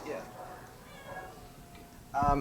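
A sweet pet-shop cat gives a short meow near the end, close and clear, after quieter stretches where people talk in the background.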